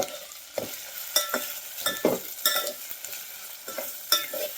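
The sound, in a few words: stirring chopped coriander into frying garlic-ginger paste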